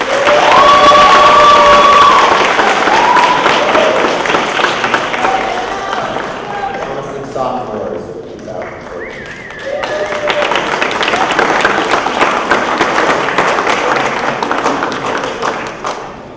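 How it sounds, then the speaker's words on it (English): An audience at a distinguished lecture and student awards event breaks into a loud concluding round of applause with cheering and whistles, swelling early, dipping midway, then rising again into a full crowd ovation. "And then just one more concluding round of applause."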